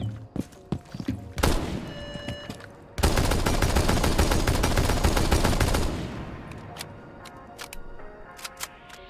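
Mk14 EBR rifle fire in Rainbow Six Siege X with an angled muzzle brake: a few sharp isolated shots at the start, then a dense sustained volley of rapid loud reports for about three seconds, followed by scattered single cracks and fading tail.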